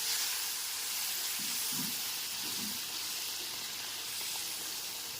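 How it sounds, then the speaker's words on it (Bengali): Boiled milk is poured into a pan of semolina for sweet mohanbhog over a low-to-medium gas flame, giving a steady broad sizzle and bubbling hiss with faint stirring scrapes throughout. "দুধটা দিয়ে দেওয়ার পর গ্যাসের ফ্লেমটা লো টু মিডিয়ামে রেখে খুব ভালো মতো মিশিয়ে নিতে হবে"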